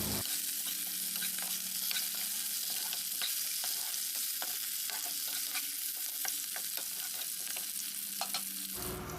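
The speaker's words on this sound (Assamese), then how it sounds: "এতিয়া ফুল আলুখিনি দি ধুনীয়াকৈ ভাজি লওঁ" Potatoes fry with chicken in a pan, a soft steady sizzle with faint scraping stir strokes scattered throughout, fairly quiet and close.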